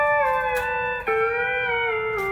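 Pedal steel guitar sustaining a chord that glides into a new one with an added half-step movement, smooth sliding tones ringing clearly and alone, close and fairly loud.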